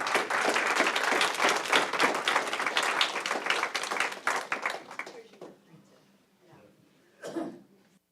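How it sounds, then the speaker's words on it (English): Board meeting audience applauding teachers, dense steady clapping for about five seconds that thins out and fades, followed by a short final burst of claps. "Give our teachers one more round of applause."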